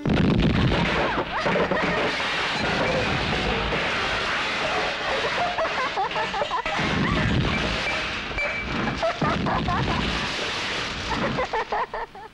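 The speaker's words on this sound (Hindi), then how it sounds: "वो पीछे पहाड़ी है ना, वहां पे बारूद लगा के चट्टाने तोड़ते हैं।" Gunpowder blasting breaks rocks on a hillside nearby, producing a loud, sustained roar of crashing and rumbling debris that barely lets up for over twelve seconds.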